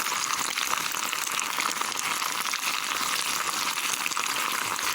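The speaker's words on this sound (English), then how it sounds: "the frying is doing like this" Neem oil sizzles and crackles continuously in a pot over low heat, a dense hiss that stays even and fairly quiet throughout, with no voices.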